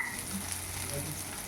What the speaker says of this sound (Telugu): ఇలా ఎర్రగడ్డ వేగి ఇలా పచ్చిమిరపకాయ వేగితే